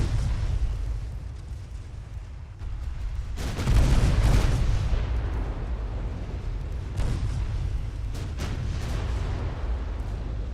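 Deep rumbling naval gunfire and shell impacts from the Ultimate Admiral: Dreadnoughts warship game, with a heavy boom swelling a few seconds in over a continuous roar of battle.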